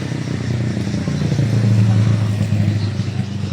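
Motorcycle sidecars rumble nearby in busy traffic at a terminal, engines droning and revving steadily with some clatter, loud and close.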